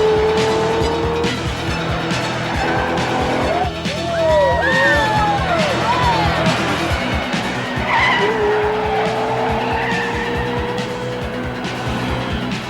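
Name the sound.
race cars skidding in a cartoon race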